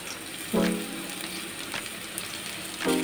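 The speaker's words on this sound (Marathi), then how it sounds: "आता हा थोडासा लसूण पण त्याच्यात तळून घ्यायचा आहे" Garlic and onion fry in ghee for lasooni palak, a soft steady sizzle with two brief tonal clinks of utensil against pan.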